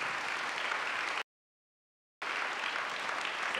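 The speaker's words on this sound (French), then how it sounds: "Je pense que ça s'applaudit." Steady applause from a crowd at a Sunday evening church gathering, broken by about a second of total silence before the clapping resumes at the same level.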